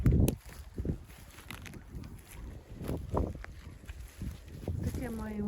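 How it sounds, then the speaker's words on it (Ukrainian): Gusty wind buffets the microphone in low, uneven rushes on the Dnipro riverbank while mushroom picking, with people talking intermittently close by. "Вітер піднявся."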